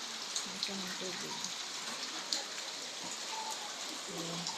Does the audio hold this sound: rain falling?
yes